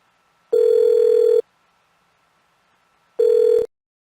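Two synthetic telephone ring tones from the video game Persona 3 sound alone, a steady tone lasting about a second, a pause of silence, then a shorter second ring.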